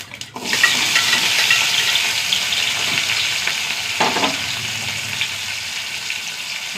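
Garlic and shallots hit hot oil with mustard seeds for an Onam sadhya-style dish, giving a loud, dense sizzle that settles into steady frying, with a brief stirring clatter partway through.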